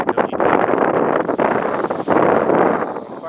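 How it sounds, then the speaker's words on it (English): Loud, continuous wind buffeting a microphone, roaring and gusty throughout, with a faint high-pitched whine in the background. "It's a little bit windy."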